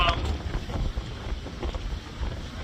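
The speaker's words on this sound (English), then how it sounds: "It just won't slow down, this wind, like." Strong coastal wind during a shore fishing session, a persistent close buffeting roar with uneven gusts battering the microphone.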